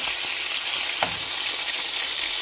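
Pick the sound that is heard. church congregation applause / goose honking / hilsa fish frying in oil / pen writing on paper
hilsa fish frying in oil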